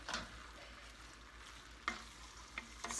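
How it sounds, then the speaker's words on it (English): Lemon herb chicken pasta with olive oil and grated Parmesan stirred in a pan, quiet scraping and soft sizzle with a few sharper utensil clicks near the end. "I'm going to stir that up"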